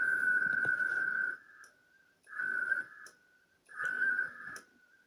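Packet radio transmission produces three bursts of a steady warbling data tone, each about a second long with short gaps, fairly faint and with no voices.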